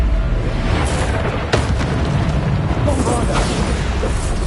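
Bombarda spell explosions in Hogwarts Legacy, a dense continuous roar of booming blasts and rumbling impacts, loud and close, with sharper bursts breaking through the wash of game noise.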